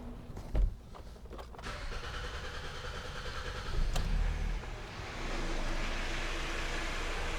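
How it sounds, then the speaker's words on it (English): A Hyundai GDI car with low power and a long crank time cranks over and starts, a steady close engine rumble with a brief knock near the start and a surge around four seconds before settling to a louder running drone. "I'm just going to start the car up."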